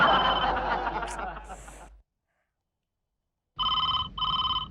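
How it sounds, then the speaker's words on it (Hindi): Two loud bursts of an electronic telephone ring sound in a Hindi comedy TV serial scene, following a stretch of laughter and a brief silence. "ये टीना का फोन होगा।"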